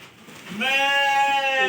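Sheep bleating close by during feeding, a long, loud, steady bleat with rich harmonics lasting over a second, preceded by faint low rustling.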